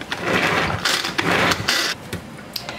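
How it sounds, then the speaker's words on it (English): Quick, rough whirring bursts of a hand-pulled pull-cord food chopper spinning its blades through onion, several short pulls in a row with brief pauses, close up. "That was 10 good pulls, and it's already chopped."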